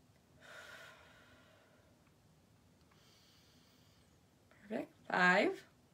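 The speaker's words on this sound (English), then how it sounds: "Breathing in and out." A person breathes in and out slowly while holding a stretch: a soft, airy inhale, a fainter exhale, then a couple of louder, sharper breaths at the end.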